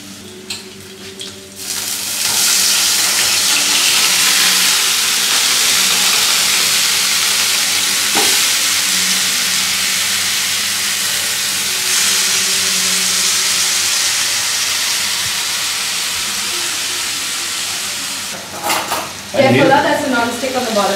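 Onion frying in a pan in a home kitchen in Goa, India, with a loud steady sizzle and hiss lasting most of the stretch, a brief utensil clink midway, and voices talking near the end.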